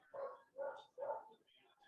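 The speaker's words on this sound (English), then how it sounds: "I excuse my dog here." A dog barks three times in an evenly spaced series of short, fairly loud barks, close by indoors in a home setting.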